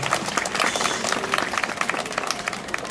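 A crowd claps at the Miss Alsace 2013 beauty pageant, a brief burst of lively, uneven applause from many hands, fairly close and sustained for about three seconds.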